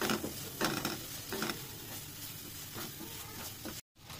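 Spices fry in oil with salt for a beef curry, a quiet sizzle under a few scraping stirs of a spoon in the pan, with a brief cut near the end.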